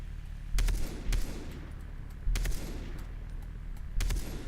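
Gunfire in the video game Far Cry 3: a few scattered, sharp shots ring out at moderate distance, each followed by a short rumbling tail, over a steady low background.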